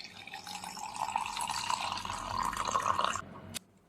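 A steady stream of milk pours into a blender for a milkshake for a few seconds, splashing and gurgling close by, then stops abruptly.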